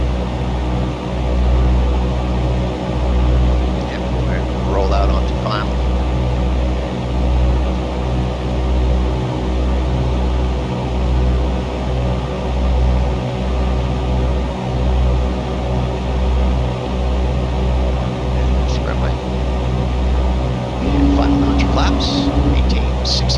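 Inside the cabin of a Cessna 172 doing touch-and-go landings at a towered airport, a steady, loud engine and propeller drone fills the whole stretch with little change.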